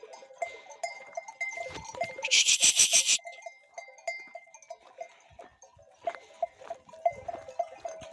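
Sheep bleating nearby, with a loud burst of bleats in the middle, over a steady clinking of animal bells throughout.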